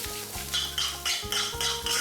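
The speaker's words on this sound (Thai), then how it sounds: "จากนั้นผัดคลุกเคล้าให้เข้ากันครับ" Day-old rice being stir-fried in a pan for Thai shrimp fried rice: rhythmic spatula scrapes and tossing strokes, about five in quick succession, close up over a soft sizzle.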